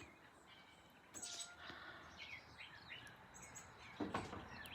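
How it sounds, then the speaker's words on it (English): Faint birds chirp outdoors in short scattered bursts, with a couple of sharper calls standing out over a quiet background hum of insects. "let's look at the birds, wherever they're at."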